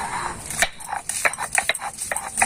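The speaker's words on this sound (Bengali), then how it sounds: "এই মশলাগুলো এবার আমি শিলনোড়ায় বেটে নেব" Garlic, ginger and cumin are ground on a shil-nora grinding stone, giving rapid, irregular scraping and knocking strokes of stone on stone, close and fairly loud.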